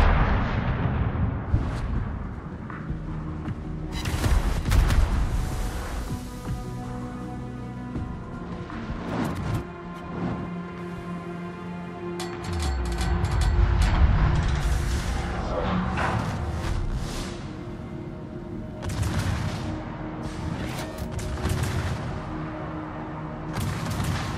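Heavy battleship guns of the USS Montana boom repeatedly in World of Warships, loud irregular blasts and explosions over a rumbling sea-battle background.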